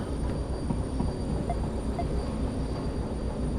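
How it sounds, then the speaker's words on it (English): Train braking in the Derail Valley game, heard as a steady, loud broadband rumble and hiss of rolling stock with no distinct squeal, continuous throughout with no voices. "I need to use train brake."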